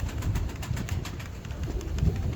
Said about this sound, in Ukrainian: Хороший теж голубець.